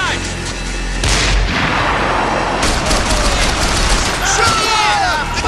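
Heavy gunfire in the video game Max Payne 3, loud booming shots and a sustained barrage after an opening burst, with someone shouting over the battle.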